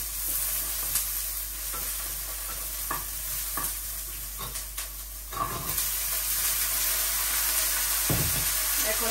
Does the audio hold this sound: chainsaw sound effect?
no